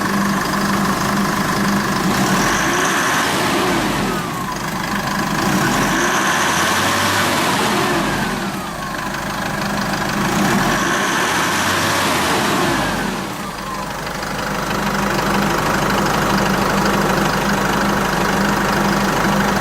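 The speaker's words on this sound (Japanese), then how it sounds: "エンジンは3リッター150馬力インタークーラーターボ付きです。" A 2016 Isuzu Elf flatbed truck with a 3-litre, 150 hp intercooled turbo diesel idles steadily and loudly up close, its dense rumble swelling and dipping slightly in level with no talk.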